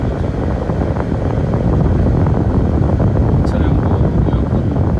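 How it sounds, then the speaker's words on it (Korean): A Renault Samsung New SM5's air conditioner blower runs at maximum fan speed with the engine running, giving a steady, loud broadband rush of air throughout, with faint mechanical tones underneath. "풍량은 최대."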